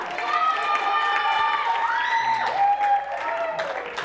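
A live improv comedy audience applauds and cheers as three performers are called up for the next game. The crowd noise is steady and full throughout, with high whoops and voices ringing over the clapping.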